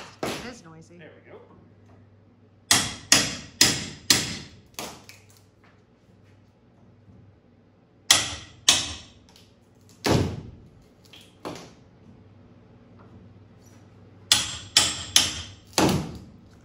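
An RV-10 fuselage shipping crate is struck open with a hammer: groups of loud, hollow wooden bangs and thuds in irregular bursts, separated by quieter pauses with people speaking nearby.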